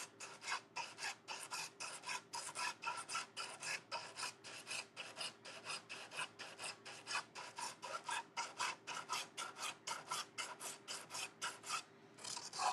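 Lower-grit sandpaper is rubbed by hand across a dress form in a fast, steady back-and-forth rhythm, a close, gritty rasp that repeats evenly with no speech.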